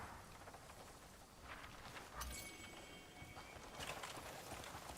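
Horse hooves clip-clop faintly in a video game, soft irregular steps under a hissing rain-like ambience, with a sharper clatter partway through.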